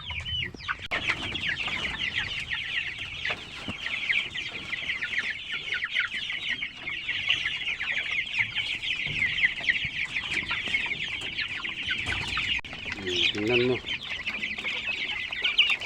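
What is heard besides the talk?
chickens clucking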